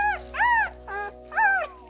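Newborn Doberman puppies squeal and whimper in three or four high, wavering cries, each under a second long, with short quiet gaps between them, close by.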